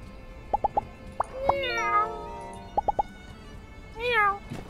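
Cat in the video game My Time at Sandrock, several short plucky game blips followed by drawn-out, wavering meows, close and clear with no talk.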